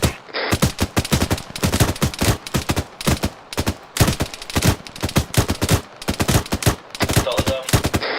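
Rapid bursts of gunfire from the military shooter game ArmA 3, played in a British milsim session, crack out in dense, repeated volleys across the whole stretch, loud and close, with brief pauses between strings of shots.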